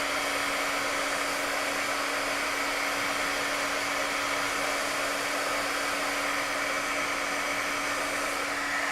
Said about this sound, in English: let's heat emboss this